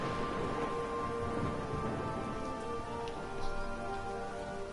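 Steady rain pours over the scene in the video game Masquerada: Songs and Shadows during a thunderstorm, a dense constant hiss of drops on surfaces with low rumbling beneath and a tonal game soundtrack running alongside.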